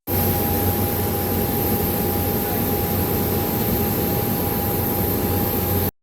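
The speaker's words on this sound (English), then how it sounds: "I was listening to the plane just, whistle and hum and all that stuff" Steady broadband roar of a jet airliner cabin in flight, a constant engine hum with a thin high whistle running beneath, loud and unbroken with no voices until it cuts off at the end.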